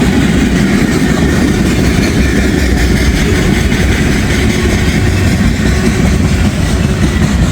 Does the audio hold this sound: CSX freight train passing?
yes